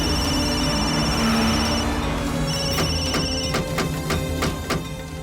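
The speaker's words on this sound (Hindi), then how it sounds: "जल्दी फोन उठाओ।" A telephone ringtone trills in a steady repeating electronic pattern, loud and close, during a tense scene in a Hindi TV drama, with no voices over it.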